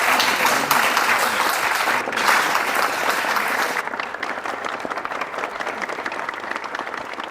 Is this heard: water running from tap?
no